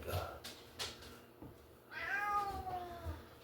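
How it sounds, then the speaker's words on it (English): A cat meows once, a drawn-out wavering call near the end, heard close but fairly quiet after some soft thumps and background noise in a woodworking space. "He said meow instead of words."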